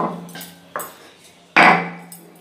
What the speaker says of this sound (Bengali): ততক্ষণ আমি এদিকে পোস্তটা বেটে নেবো